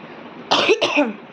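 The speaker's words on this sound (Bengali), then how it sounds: "বলতে বলতেও কাশি হচ্ছে" A person with a cold coughs twice in quick succession, close and fairly loud, a sharp hacking double burst against a quiet background.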